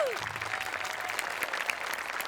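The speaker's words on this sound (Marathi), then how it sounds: "आमिर हडकर आणि टीमसाठी जोरदार टाळ्या." An audience in a comedy stage show claps loudly for the performing team, a dense, steady burst of applause from a large crowd that fills the whole moment without pause.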